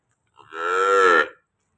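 A cow on a farm gives a single long, loud moo with a close, rising and falling tone, preceded and followed by silence.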